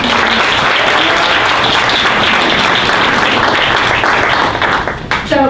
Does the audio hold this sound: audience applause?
yes